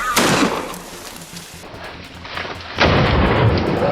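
A gunshot during a wild boar hunt on farmland: a sharp, loud report near the start, then rumbling, noisy outdoor background with a second heavy burst late, sounding like a distant echoing boom.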